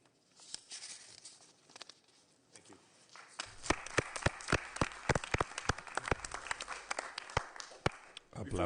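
Applause at a county commissioners meeting starts sparse with a few scattered claps, then swells into fuller, uneven clapping partway through, fairly distant and modest in level.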